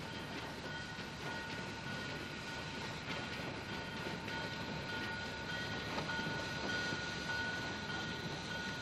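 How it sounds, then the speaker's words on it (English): Train on the White Pass and Yukon Railway rumbling steadily for several seconds, a dense continuous roll of wheels and carriages with faint clatter and a thin sustained tone, no voices. "to ride on the White Pass and Yukon Railway"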